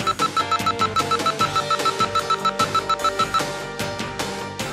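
A sudden-stop warning alarm at a driving license skills test course in Daejeon beeps rapidly and repeatedly, loud and insistent, with no talking over it.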